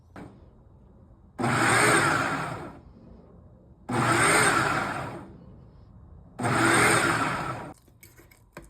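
An electric mixer or blender mashing cauliflower with warm milk, running in three loud whirring bursts of about a second and a half each, separated by quiet pauses.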